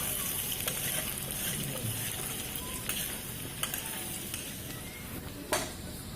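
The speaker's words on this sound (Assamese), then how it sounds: "জলকীয়া ভাজি" Chillies fry in a pan with a soft, continuous sizzle and a few faint clinks and stirs, heard close but quietly.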